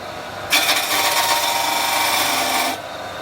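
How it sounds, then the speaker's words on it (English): A skew chisel makes a steady peeling cut on spinning wood at a lathe, a continuous bright rasping hiss lasting about two seconds over a faint motor hum, with no voices. "We're then going to shape a hat with another peeling cut"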